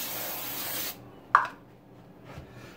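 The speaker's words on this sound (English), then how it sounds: "I'm just going to give it a little spray." A can of canola oil nonstick cooking spray sprays in one steady hiss for about a second, then cuts off, followed by a faint click and soft handling noise nearby.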